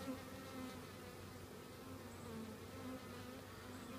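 Honeybees hum in a dense, steady buzz from an open hive during an inspection, the drone of many insects close by and continuous throughout, with no talking.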